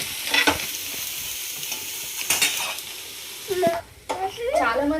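Tomatoes sizzle and fry in a traditional fish curry over a high flame, with steady hissing broken by scraping stirs and clatter, while a voice talks intermittently nearby.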